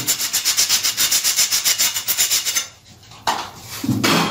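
A cut ceramic tile edge is rubbed smooth with rapid, rhythmic back-and-forth scraping strokes, loud and close for about two and a half seconds, then a pause and a few rougher scrapes.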